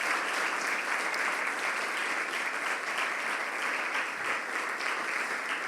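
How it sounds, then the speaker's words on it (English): Audience at a university centre launch applauding after a talk, continuous dense clapping at an even level for the whole stretch, no talking heard. "Yes, please, clap."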